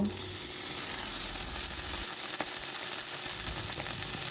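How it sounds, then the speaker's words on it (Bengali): Taro stolons and sponge gourd frying in a pan, a constant close sizzle with a faint occasional clink or scrape of stirring, steady and without talk. "কচুর লতিগুলো উল্টিয়ে পাল্টিয়ে কিছুক্ষণ ভেজে নিয়ে এরপরে ধুন্দুলগুলো দিয়ে দিব"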